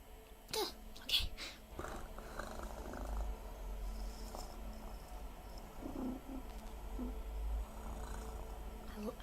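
Human voice imitating a cat's purr close into an ASMR microphone: a soft, low, continuous rumble lasts throughout, quiet and very near, with a couple of brief clicks early on.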